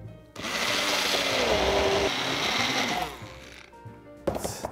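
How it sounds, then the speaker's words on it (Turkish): An electric blender whirs through oats, corn flour and hot water, a loud close steady motor roar that sags as the load thickens, then stops, followed by a short final pulse. "Ve blenderdan geçiriyorum."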